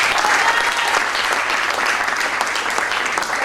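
A congregation at a prophetic banquet church service applauds steadily, a dense loud wash of clapping from many hands with a faint voice underneath.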